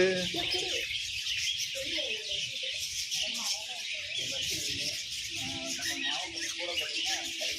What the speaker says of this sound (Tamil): எல்லா பறவைகளும் பறந்து போச்சு